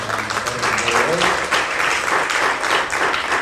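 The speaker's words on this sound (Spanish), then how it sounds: "Den un aplauso a Cristo por participar en el día de hoy" A church congregation applauds steadily and loudly, dense clapping filling the space throughout, with faint voices mixed underneath.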